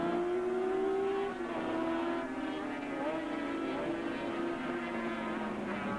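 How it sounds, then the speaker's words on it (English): Big four-stroke racing motorcycle engine winding out at Oran Park road racing in 1986, a loud sustained rising whine that shifts pitch through gear changes, heard from trackside. "you can just hear the big four-stroke wind out"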